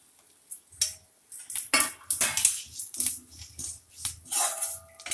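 Sesame seeds tipped into a pan for tomato chutney, with light scattering taps, scraping and spoon clinks against the metal in irregular bursts, close and fairly quiet.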